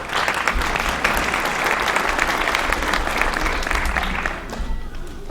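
An audience gives dense, sustained applause for a cast of young Peanuts characters in a stage production of A Charlie Brown Christmas. The clapping stays loud and even before easing slightly near the end.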